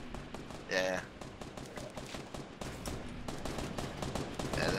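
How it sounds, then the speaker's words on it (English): Gunfire in Fortnite Battle Royale, with rapid bursts of shots running through the clip in dense, repeated cracks beneath game sounds, and a voice briefly audible. "He's shooting at you."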